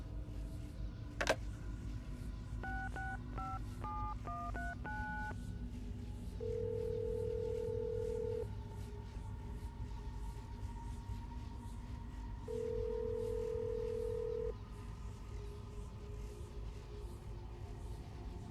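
Telephone dialing in the video game Assassin's Creed Brotherhood: a quick run of electronic keypad tones, then two long, steady ringback tones separated by a pause, heard over a low, quiet background hum.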